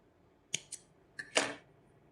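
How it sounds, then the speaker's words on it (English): Scissors snipping crochet yarn while finishing a hoop earring: a few sharp close snips, two quick ones, then a pair with a longer rasping cut, alone in a quiet room. "So now I'm just going to chain one and cut my work here"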